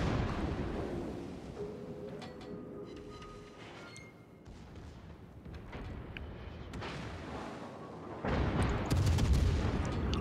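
Naval guns in a video game fire at an enemy ship's superstructure, producing heavy booms and rumbling salvos over a continuous roar, with a louder volley near the end.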